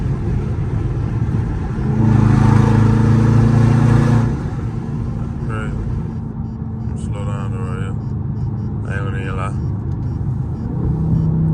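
A Scat Pack's loud engine roar swells for a couple of seconds, then settles into steady highway rumble with brief higher whines over it.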